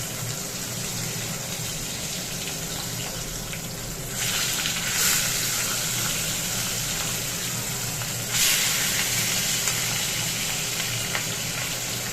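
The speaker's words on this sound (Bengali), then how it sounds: "এই যে আমি মাছগুলিকে ভেজে নিচ্ছি" Katla fish pieces fry in oil for a kalia, making a continuous hiss and sizzle that swells louder twice, as if pieces were turned or added, with no speech.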